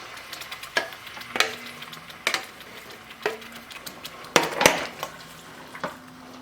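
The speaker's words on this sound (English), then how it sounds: "Now stir this quickly because they will be splashed." Tomato sauce for shakshuka sizzles softly in a pan while a utensil scrapes and knocks against it in quick, irregular strokes, with no talking.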